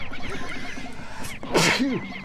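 A single loud sneeze bursts out around the middle of a quiet room-tone stretch, set against a Pikmin 2 game session with soft background game sounds.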